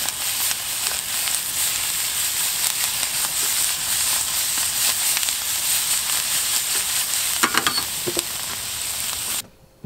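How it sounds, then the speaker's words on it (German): Pimento peppers fry in a pan with onions and garlic, giving a steady close sizzle and crackle with occasional stirring scrapes before the sound cuts off abruptly at the end. "Und die haut man einfach mit Zwiebeln, Salz, Pfeffer in die Pfanne, bisschen Knoblauch."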